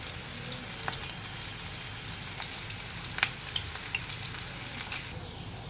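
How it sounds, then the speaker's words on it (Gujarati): Ring bhajiya fritters frying in oil make a soft, continuous sizzle, with scattered small crackles and pops breaking through the quiet bubbling. "તો આપણે આને બ્રાઉન રંગના થાય ત્યાં સુધી તળી લેવાના છે"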